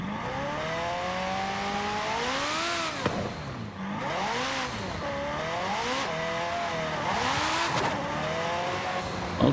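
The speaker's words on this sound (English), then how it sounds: "Very fast acceleration. We're at 150 already." A car from the American Automotive Car Pack in Forza Horizon 5, played on a steering wheel, accelerates hard, its engine note climbing through several gear shifts with brief dips between them, loud and continuous with no talking.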